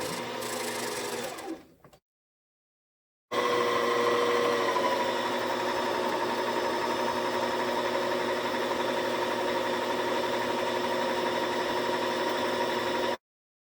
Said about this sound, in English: Now you're going to use the foot pedal to wind the bobbin.